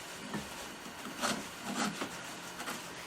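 A wood carving gouge scrapes and cuts into cottonwood bark in several short, rasping strokes, each one a soft, close scratch over quiet background noise.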